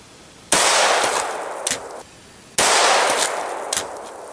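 Two loud .22 LR rifle shots about two seconds apart, each a sharp crack followed by a spray of splashing liquid as the bullet tears through stacked purple drink bottles.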